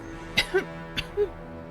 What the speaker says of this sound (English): you keep on coughing